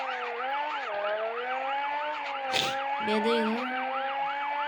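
In the Car Parking video game, a police car siren wails loud and continuous in a repeating rising-and-falling cycle, with a brief sharp noise partway through and a voice speaking briefly over it.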